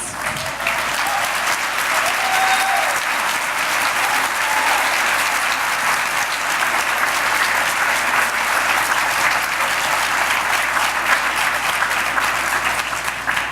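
Steady, dense applause from an audience acknowledging grantees at a women's philanthropy event, sustained and even in loudness throughout with no pauses.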